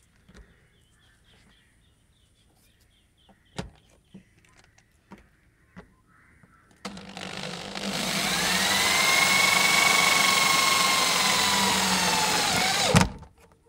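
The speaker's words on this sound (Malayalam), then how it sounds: "ഈ സ്ക്രൂ ഇതുപോലെ തന്നെ അടിച്ചു വയ്ക്കുക" A power drill drives screws into the side skirting of a Maruti Wagon R Stingray. Soft taps and clicks come first, then a loud, close, whirring drill run of about six seconds that ends abruptly.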